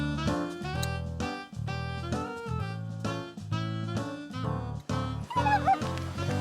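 A Labrador barks in quick repeated yips mixed with whining whimpers, close and lively, with a few short pauses between bursts.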